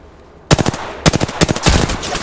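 Loud, close automatic gunfire in the video game Apex Legends: rapid bursts break in after a brief quiet, then several more clustered volleys follow in quick succession.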